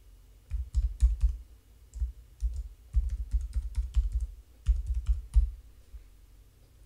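Fingers typing an email address on a computer keyboard, quick clusters of close clicking keystrokes with brief pauses between bursts, no voices.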